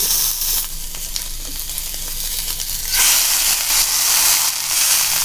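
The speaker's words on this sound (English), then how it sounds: "And we're gonna sear these." Teres Major steak sears loudly in a hot pan, a dense hissing sizzle that swells sharply partway through as the meat is pressed down, close and continuous with no talking.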